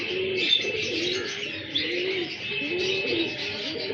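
A male Hira Lal breeder pigeon coos in repeated soft, rolling phrases, close by, with the high chirps of other birds running steadily behind it.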